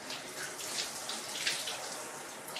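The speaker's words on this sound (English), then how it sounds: "I'm not just going to power him with water the entire time. I'm going to do a little bit of the water." Water runs steadily over a dog during a bath, a continuous close splashing wash like a tap or shower stream with no talking.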